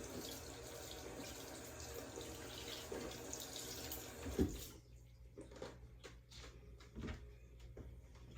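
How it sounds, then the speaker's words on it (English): Water runs from a sink tap during hand washing in a home kitchen, a steady close rush for about four seconds, then the flow stops and quieter handling knocks and clatters follow. "I'm just going to wash my hands real quick"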